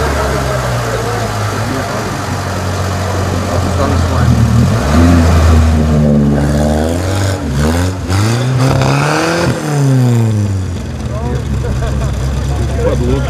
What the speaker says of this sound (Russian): Вездеходы соревновались 2 дня.